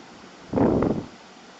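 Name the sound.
glass of water poured into beef biryani pot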